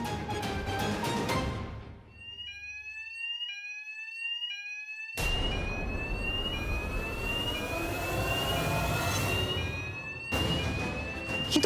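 A hotel fire alarm rings loud and insistent, its electronic tones pulsing in repeating bursts over a dense, noisy background that swells and recedes with a few brief gaps.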